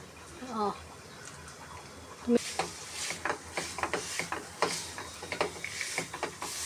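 A spoon stirs a panchakhadya modak filling of dry fruits and cardamom powder in a pan, making a series of close, scraping and clicking strokes in a steady rhythm after a brief murmur of voice.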